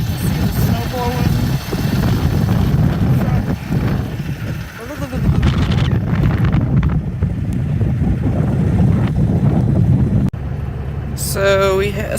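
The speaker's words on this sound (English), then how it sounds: "Ooh, it's cold and windy and snowing." Blizzard wind gusts and roars against the microphone in falling, blowing snow. The rumble is loud and continuous, and a person talks over it.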